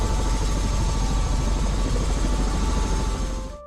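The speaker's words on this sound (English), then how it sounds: "Later, a helicopter lifts you from the roof of the world." A helicopter lifts off in the Himalayas, its engine and rotors a loud, steady, close roar that holds evenly before dropping away abruptly at the end.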